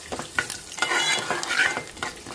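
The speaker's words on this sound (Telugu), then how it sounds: "ఈ పోపు గింజలు కొంచెం ఎర్రగా వేగాలన్నమాట." Tempering seeds, dried red chillies and curry leaves fry in hot oil, a close crackling sizzle broken by repeated scraping strokes of a stirring spoon.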